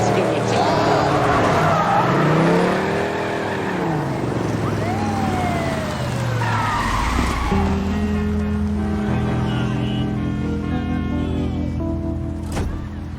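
A police car chase plays out with loud engine roar and squealing, skidding tires, plus rising and falling siren-like sweeps, all dense and continuous at close range.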